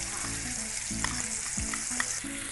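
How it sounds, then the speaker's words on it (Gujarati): Masala paste frying in hot tempering for drumstick dal, a constant close sizzle broken by repeated scraping strokes of a spoon against the pan. "અને હવે જે મસાલાની પેસ્ટ કરીને રાખેલી છે એ ઉમેરી દઈએ."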